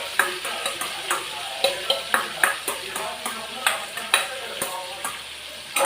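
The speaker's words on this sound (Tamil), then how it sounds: "அப்படியே ஃப்ரை பண்ணி எடுத்துட வேண்டியது தான்." Green chilli chicken fries in hot oil with a constant sizzle. Quick, regular metallic clinks from a stirring spatula punctuate it, loud and close.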